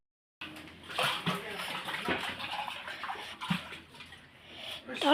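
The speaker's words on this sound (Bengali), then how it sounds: "দেখো কত সুন্দর করে জলপাইগুলো ধুয়ে নিচ্ছে" Olives are washed by hand in a bowl of water, giving continuous sloshing and splashing at close range, with a voice faintly under the water sounds.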